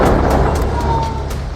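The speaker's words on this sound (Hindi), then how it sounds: "बाद होता है बहुत बड़ा धमाका" A landmine explodes under an Israeli Merkava tank with the explosive Shahbaz, heard as a dense, loud, rumbling blast wash with low booming energy and a few sharp cracks layered through it.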